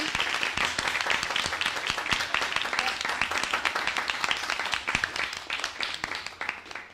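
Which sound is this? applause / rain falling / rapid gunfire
applause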